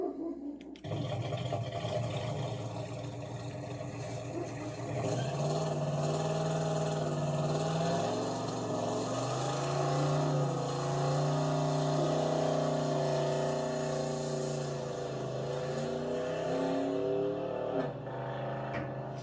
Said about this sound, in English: Independence Day burnout